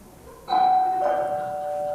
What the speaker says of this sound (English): She wouldn't ring her own doorbell.